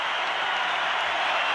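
Stadium crowd at the Arena applauding Suárez at his last Grêmio home match, a steady broadband wash of clapping and crowd noise filling the whole moment without pause.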